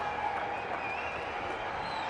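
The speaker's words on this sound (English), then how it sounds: "That's why the crowd noise, they're cheering and standing up." Stadium crowd at a one-day cricket match between Australia and Sri Lanka cheering and applauding, a steady, fairly faint wash of clapping and roar with a distant announcer's voice over it.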